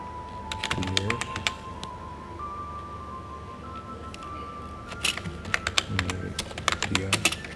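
Keys clatter on a computer keyboard in quick bursts while someone designs a thumbnail in Adobe Spark, with a pause in the middle before a second run of tapping and faint background tones.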